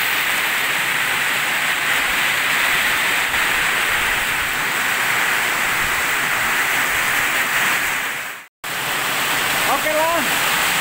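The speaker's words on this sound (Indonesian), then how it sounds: "Ini hujannya masih besar." Heavy rain driven by strong wind roars as a steady, dense wash throughout, close and loud, with a brief dropout near the end before the downpour resumes.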